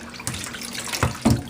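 Tap water runs steadily over a box fan grate in a sink, close by, with a few louder splashes and knocks as the grate is moved under the stream.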